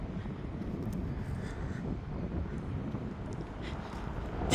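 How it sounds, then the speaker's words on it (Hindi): Cool June wind blowing steadily outdoors beside a walking track, a broad continuous rushing that buffets the microphone at an even, fairly loud level with no voices. "इतनी अच्छी हवा चल रही है, ठंडी ठंडी"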